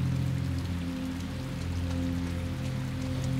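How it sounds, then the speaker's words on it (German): Steady rain in the video game Inside, a continuous even patter on surfaces with a low droning hum underneath, no voices. "Es ist kalt und es regnet."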